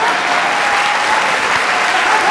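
A television comedy studio audience claps steadily, a dense continuous wash of applause heard close and loud, with no voices over it.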